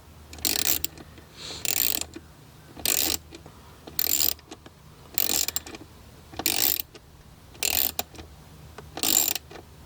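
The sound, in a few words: tightening a fitting on a 2024 Mustang GT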